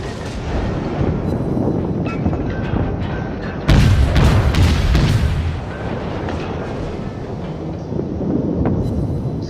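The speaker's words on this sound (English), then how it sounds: "He's shooting at me now." Naval gunfire and shell impacts in the World of Warships naval battle game, a constant heavy low rumble with a loud booming surge partway through, continuing without speech.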